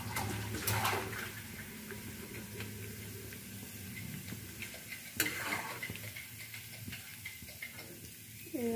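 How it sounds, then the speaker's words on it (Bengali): Fried carrots being stirred into cooked rice in a pan, a soft scraping and mixing with faint ticks and hiss over a steady low background, no voices. "এইভাবে সব কটা গাজরকে একসঙ্গে মিশিয়ে দিচ্ছি আমি"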